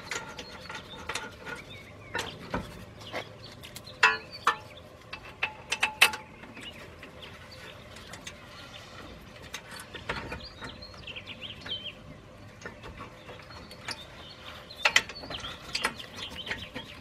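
Ratchet tightening rear brake bolts on a 2011 Nissan Quest: bursts of quick, clicking pawl ratchets with metallic clanks, close and moderately loud, separated by quieter shop ambience.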